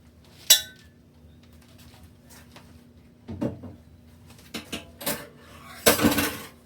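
Bacon grease is spooned into a cooking pot: a few sharp metal clinks and scrapes of a spoon against the pot come at scattered moments, close and separated by quiet kitchen background.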